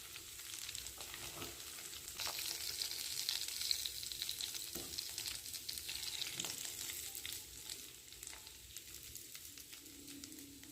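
Herbal hair oil heats in a pan, a quiet, continuous low sizzle with occasional stirring clicks that stays fairly steady throughout, no voices heard.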